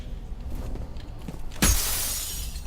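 Glass shatters in the F.E.A.R. shooter game: a sudden loud crash after a quiet stretch of low ambience, followed by a sustained bright, hissy wash of falling shards.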